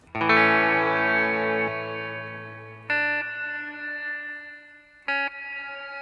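Guitar chords ring out through an Old Blood Noise Endeavors DarkLight pitch-shifting reverb pedal, a shimmering reverb that swells and lingers, with a few fresh strums decaying into a long wash.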